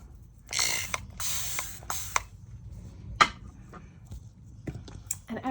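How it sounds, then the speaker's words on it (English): Water spritzed from a spray bottle onto inks to help them move, several short hissing sprays in quick succession near the start, followed by softer handling noises. "So I'm just giving them a spray of water."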